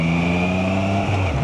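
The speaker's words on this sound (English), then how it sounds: "this little engine, you know, it's a 660 engine" A 2024 Triumph Trident 660 motorcycle's 660 engine running while riding, a steady loud drone with a shift in pitch near the end, heard alone without talk.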